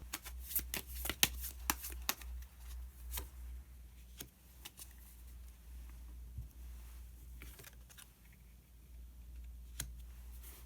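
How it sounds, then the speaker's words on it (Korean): Tarot cards being shuffled close by: quick, papery riffles and clicks come in bursts and fade into quieter handling. "카드 한 장을 더 뽑고 이야기 계속 나누도록 하겠습니다"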